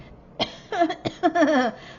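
A sharp cough bursts out, followed by a few short throaty, voiced sounds close to the listener.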